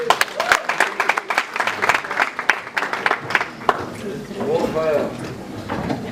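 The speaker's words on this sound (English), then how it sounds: "Can we give a round of applause for Mr. Melvin Tafiranyika?" Audience applause rings out at an awards ceremony, a dense run of many hands clapping at close range that holds steady for several seconds, with talk and crowd murmur mixed in toward the end.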